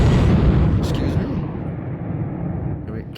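A New Year firework blows up with a loud, deep blast that rumbles and gradually fades over a few seconds. A few sharp crackles follow, and muffled voices are mixed into the noise.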